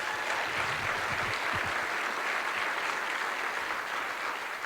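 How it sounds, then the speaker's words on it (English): Sustained audience applause at a university economic forum for the Chancellor, a continuous wash of many hands clapping at an even level for several seconds, with a few low murmurs early on. "Let's give Venkat a round of applause."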